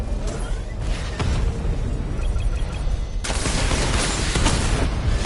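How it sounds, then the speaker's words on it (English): A Batmobile missile barrage in Batman: Arkham Knight: a loud, dense volley of rapid booms and blasts that swells into a sustained roar of explosions in the second half. "Missile barrage level 2 ready."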